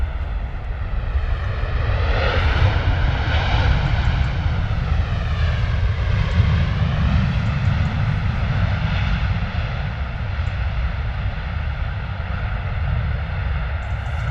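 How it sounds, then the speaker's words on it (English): A Ryanair airliner lands at London Stansted Airport, its engines giving a loud, steady roar with a broad rumble that holds for the whole stretch, close and continuous, with no voices over it. "Very nice landing from the Ryanair."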